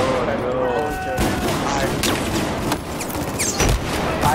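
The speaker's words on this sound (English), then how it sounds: "I died again from the shotgun." Shotgun blasts and surrounding gunfire in a Battlefield 4 multiplayer round, loud continuous combat noise with sharp shots scattered throughout and a voice talking over it.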